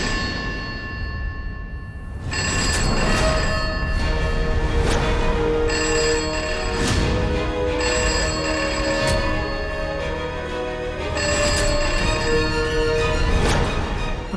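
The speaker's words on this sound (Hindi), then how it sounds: "अभी ये घंटी कौन बजा रहा है?" A telephone rings loudly and repeatedly in a home scene from a Hindi TV serial, its bright electronic ring tone pulsing in a steady cycle after a short quiet start, with no talk.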